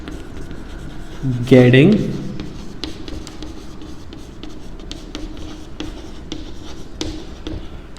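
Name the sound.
writing by hand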